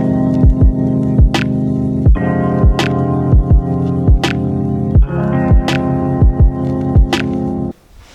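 A Dyson vacuum cleaner runs indoors with a loud, steady humming drone broken by repeated bumps as it is pushed around, cutting out abruptly just before the end.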